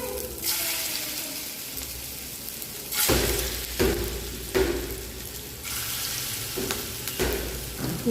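Gram flour, onion and chilli fritters drop one by one into hot oil, each splash raising a fresh loud sizzle over a steady frying hiss, close up.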